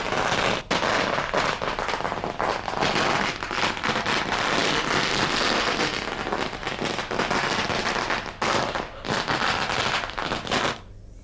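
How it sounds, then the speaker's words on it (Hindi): Firecrackers set off in celebration explode in a long, dense crackling barrage, rapid loud pops running continuously with brief gaps, near and intense. "पटाखे जलाए जा रहे हैं।"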